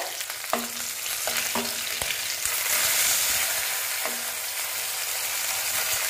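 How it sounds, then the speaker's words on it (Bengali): Katla fish fry in hot oil in a pan, giving a steady, dense sizzle that runs through the clip, with a few sharp utensil taps and clinks near the start. "দেখে নিচ্ছি মোটামুটি ভাজা হয়ে গেছে।"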